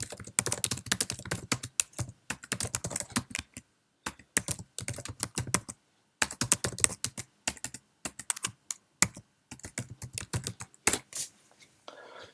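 Fingers type a prompt on a Mac computer keyboard in quick bursts of close, crisp key clicks, separated by brief pauses, with no talking.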